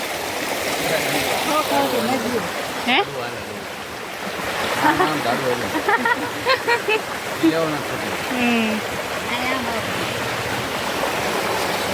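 Stream water rushes and gurgles over rocks in a steady wash in the Ghumli forest of the Barda hills, while people talk intermittently over the flowing sound.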